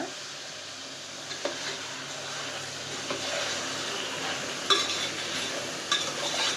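Spice powder from two packets is stirred into donne biryani in a pot for an Ugadi festival meal, making a continuous scraping, sizzling churn with a few brief metallic clinks, close and steady without voices.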